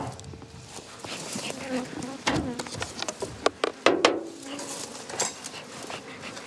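Honey bees leaving a hive in Corsica on a cool day, a steady close insect buzz with scattered sharper clicks and knocks, and faint human voices in the background.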